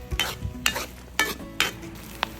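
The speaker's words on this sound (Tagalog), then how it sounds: "May maririnig na kayong mga konting pagputok." Hot oil heating in a pan for Kapampangan bopis, giving a handful of sharp, close pops and crackles spaced irregularly over a quiet background, with no talk.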